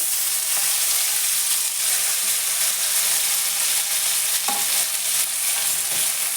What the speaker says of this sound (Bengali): এদিকে তেল গরম হয়ে গেছে আমি দুটো কাঁচা লঙ্কা ফোড়ন দিয়ে দিলাম